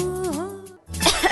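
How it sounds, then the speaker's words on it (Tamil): A person coughs after a sung or hummed tone, giving a short, harsh, close burst of coughing that ends the stretch. "என்ற இருமல் அது தன்னால போயிடும்."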